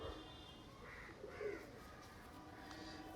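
A pigeon cooing softly, a few low throaty coos in quick succession, faint and close against quiet background noise.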